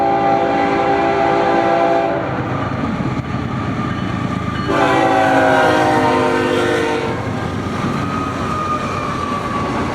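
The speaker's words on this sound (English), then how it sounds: "the first being an eastbound port stack with BNSF 6708 leading" An eastbound BNSF port stack freight train, BNSF 6708 leading, rolls past loud and close with a steady rumble, its horn sounding in two long blasts over the passing cars.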